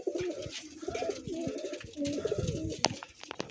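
Pigeons of a high-flying fancy breed coo in a loft, low throaty burbling calls repeating close by, with a few sharp clicks and clatters among them.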